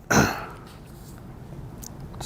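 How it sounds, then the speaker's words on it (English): A woman gives a single sharp cough in a courtroom, loud and close at the start, followed by quiet room tone and faint movement. "I was coughing."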